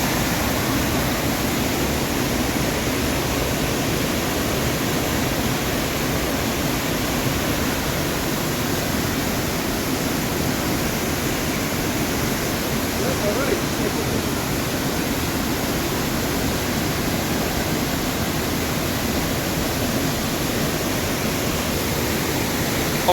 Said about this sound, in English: Not sure whether you can hear me over the waterfall.